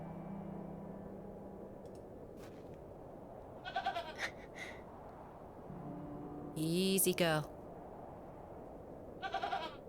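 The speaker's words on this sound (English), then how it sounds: "Oh, there's the goat." A goat bleats in the video game The Excavation of Hob's Barrow, giving a few short, nasal calls over a low ambient rumble, with a soft voice speaking between them.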